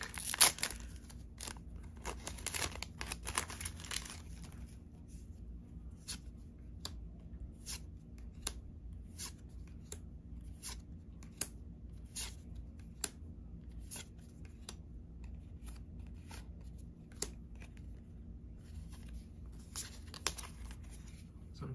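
Weiss Schwarz trading card booster packs from That Time I Got Reincarnated As A Slime are torn open and handled, giving faint crinkling foil and soft card shuffling clicks scattered over a steady low background hum.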